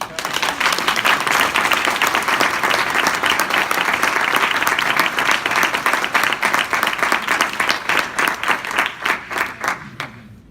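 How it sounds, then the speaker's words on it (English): An audience applauds a panel at a national competition, dense continuous clapping from a crowd that holds steady, then thins into scattered claps and fades out near the end. "How about a round of applause for this panel?"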